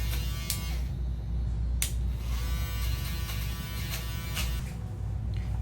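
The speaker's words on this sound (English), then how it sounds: "I'll take my shaver fully on the head" An electric shaver runs steadily close up during a high fade buzzcut, a continuous buzzing hum with a few brief clicks and scrapes as it moves over the head.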